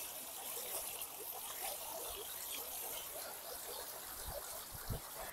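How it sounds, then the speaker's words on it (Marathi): Water from a large fountain in Copenhagen, Denmark, rushes and splashes in a steady, continuous broadband wash, moderately close and even in level throughout. "सो हे आहे ते दुसरं मोठं फाउंटन जे मी तुम्हाला म्हणलं होतं की खूप बघण्यासारखं आहे"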